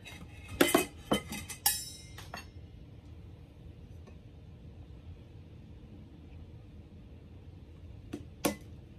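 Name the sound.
lid and strap being fitted onto a tumbler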